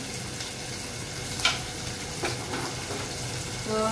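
Onion softening in a pan for a village-style spinach and radish dish, a moderate steady sizzle with a few stirring clinks, close and fairly quiet, no voices.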